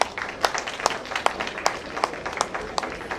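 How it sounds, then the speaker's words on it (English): A modest audience at a hardware showroom launch claps for panelists after a session, scattered distinct hand claps at a steady uneven rhythm, fairly faint and without talking. "let's give our panelists a huge round of applause."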